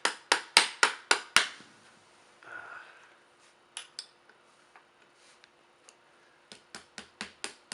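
A metal M38 Carcano rifle action is struck repeatedly to knock it off its wooden stock: a fast burst of sharp hammer blows, a short pause, scattered lighter taps, then another quick run of loud knocks.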